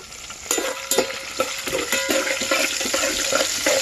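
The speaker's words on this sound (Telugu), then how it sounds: "పోపు అనేది వేగాలి" Steady crackling sizzle of tempering spices and dried red chillies frying in hot oil, with a few sharper pops and stirring scrapes scattered through, close and fairly loud.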